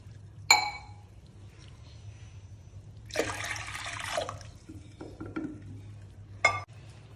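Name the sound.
water poured into pressure cooker with dal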